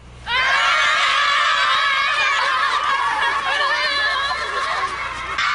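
A large crowd of charging soldiers screams and yells continuously, a dense wall of shrill cries that starts abruptly and holds loud throughout.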